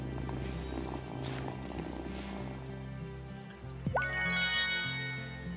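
A cat purrs steadily in the Wylde Flowers farming video game, soft and close, over a looping music background, with a brief chime near the end.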